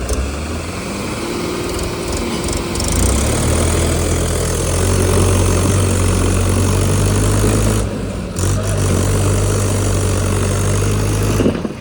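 A tractor's diesel engine runs steadily, near and loud, as it strains to tow a truck stuck at a muddy unloading point beside a large pond. The drone holds with small shifts in pitch, and no one speaks.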